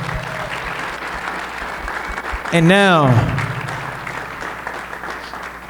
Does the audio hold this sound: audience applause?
yes